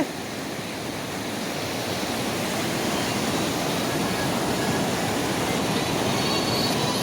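Water rushes down a hidden waterfall over marble rock in Koraput, a dense, loud, continuous roar with no pauses, heard close by and alone.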